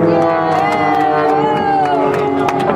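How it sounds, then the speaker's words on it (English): A crowd at the Cleveland National Air Show cheers and applauds steadily, mixed with a loud amplified announcer voice throughout. "let's give them a huge round of applause"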